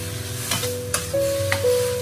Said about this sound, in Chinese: 翻炒几下就可以关火出锅